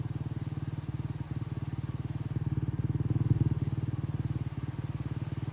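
A dirt bike engine in Monster Energy Supercross 3 runs with a steady, pulsing drone at constant speed, close and even throughout, with no talk over it.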